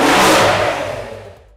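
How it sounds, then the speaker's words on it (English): A 580 horsepower mid-engined V12 sports car revs hard nearby with a loud, rising roar that fades away over the last second. "580 horsepower V12 engine between the rear wheels."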